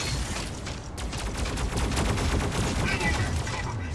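Rapid gunfire in the mech combat game Mech Arena: a loud, continuous stream of machine-gun bursts filling the whole moment.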